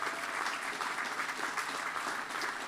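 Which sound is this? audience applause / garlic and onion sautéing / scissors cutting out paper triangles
audience applause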